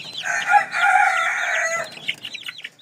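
Downy chickens cluck and chatter in a steady, close group, with a brief rise of louder calls near the start and scattered peeps trailing off toward the end.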